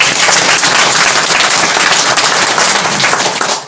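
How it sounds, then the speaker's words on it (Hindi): Loud, dense applause rises from a crowd at a village gathering during a parish visit, with many hands clapping close and steadily for a few seconds before cutting off sharply. "एक बार जोरदार ताली बजाएं।"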